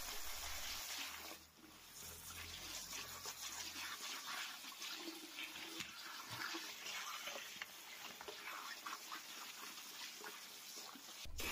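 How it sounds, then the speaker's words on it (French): Clear water rinses a basket of freshly cleaned parts just lifted from an ultrasonic cleaning tank, a steady rushing splash of running water that stays close and fairly loud throughout, with no talking. "je commence par un rinçage à l'eau claire"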